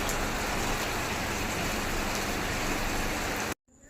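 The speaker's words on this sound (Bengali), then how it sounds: "বৃষ্টি নেমেছে।" Steady, dense rain hisses loudly and evenly for a few seconds, then cuts off abruptly to near silence.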